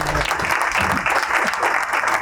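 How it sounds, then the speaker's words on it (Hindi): A studio audience at a Ramadan TV quiz transmission breaks into a short burst of brisk, dense clapping that is loud and close, with a voice heard briefly over it. "ऐसा ही जवाब, तालियां हो जाए जी।"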